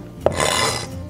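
A knife cuts small bird's-eye chili peppers into rings on a board, making one short, close rasping slice.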